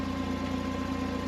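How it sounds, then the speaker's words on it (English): A car engine idling with a huge exhaust leak and a missing exhaust bolt, a steady low rumbling drone with a faint rhythmic pulse, close and unbroken for a brief moment. "It has a huge exhaust leak."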